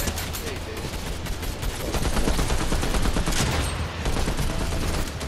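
Rapid, dense gunfire in a Fortnite squads match, including shotgun blasts, crackling continuously at close range under loud game ambience and excited player voices.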